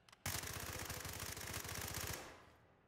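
Rapid automatic fire from an MP7 submachine gun in a video game, a dense sustained burst of evenly spaced shots lasting about two seconds before trailing off, loud and alone.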